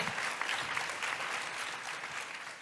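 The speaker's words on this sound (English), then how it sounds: "a big round of applause for all the women here that are students" A youth forum audience breaks into a sustained round of applause, dense even clapping from a large crowd that carries steadily through the whole stretch without any talk.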